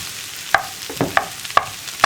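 A potato and chicken snack mixture is stirred in a pan, with four or five distinct scraping knocks of a spoon against the metal at a slow, regular pace over a quiet background.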